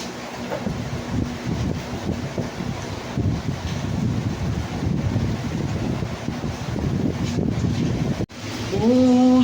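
Heavy typhoon rain pours down in Angeles City, Pampanga, a steady roaring wash with gusty wind noise on the microphone, broken by a brief dropout and a short tonal sound right at the end.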